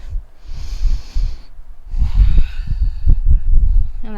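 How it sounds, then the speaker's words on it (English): Deep, slow breathing during a yoga stretching flow: airy inhales and exhales close to the ear, with a soft hiss, a brief pause, then another long breath. "One more deep breath."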